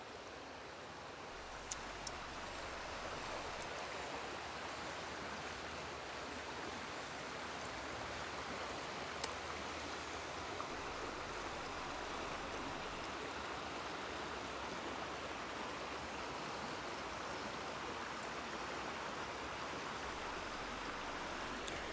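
A woodland river flows in a steady, broad rushing wash of water, continuous and even throughout, with a few faint clicks and no voices.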